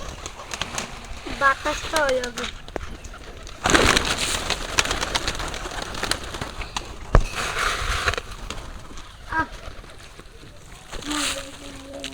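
Pigeons being fed give soft, throaty coos in short repeated phrases, close by, amid rustling and splashy movement. Someone talks over and between the calls.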